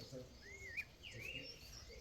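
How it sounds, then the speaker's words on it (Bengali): Birds call faintly in hill countryside near Okhrey, with a few thin, rising chirps and short tweets spread over a quiet, low background. "আর এখানে শুধু আওয়াজ বলতে পাখির ডাক"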